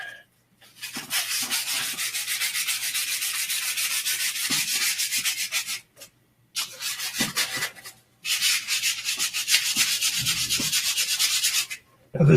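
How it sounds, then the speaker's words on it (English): A wooden wand is sanded with the finest grit paper: long, continuous rasping strokes, loud and close, broken by a few short pauses. "Give it a final sanding."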